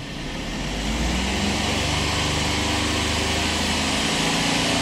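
Peugeot 208 petrol engine being revved as the throttle is pressed during a catalytic converter fault check, a loud steady engine drone that rises early and then holds a sustained high note, close and with no talk.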